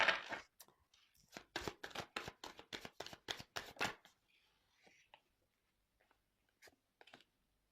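Tarot cards shuffled and handled up close, a quick run of crisp riffling flutters that stops abruptly, followed by a few faint taps and card-handling sounds in near silence.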